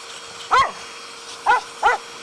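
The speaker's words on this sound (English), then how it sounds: "I'm pretty sure you couldn't hear over the dog" A dog barks three times close by, one sharp bark followed after a pause by two more in quick succession, over a quiet background hum near a portable power station.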